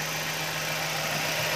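A Nissan Serena HWS engine idles steadily, a continuous low mechanical hum with a faint even vibration, close and alone with no talking.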